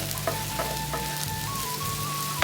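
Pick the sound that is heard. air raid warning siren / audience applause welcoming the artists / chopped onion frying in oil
chopped onion frying in oil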